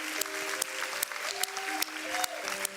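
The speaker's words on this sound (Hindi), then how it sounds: "जोरदार तालियां हो जाए स्तुति के लिए।" An audience applauding a child singer on a Hindi TV singing show, a steady burst of clapping with a voice or music tones faintly underneath.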